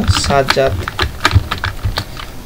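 Clicking keystrokes on a computer keyboard while names are typed into an Excel spreadsheet, irregular and close, mixed with a person talking throughout.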